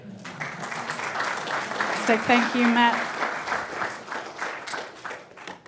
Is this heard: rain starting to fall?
no